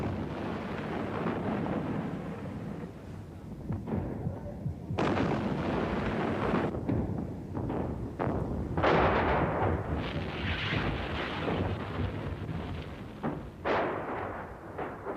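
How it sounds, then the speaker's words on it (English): Artillery bombardment: heavy booms and blasts arrive one after another, some dull and distant, others sharper and closer, over a continuous rumbling background. "The bombardment was relentless and went on by day and by night"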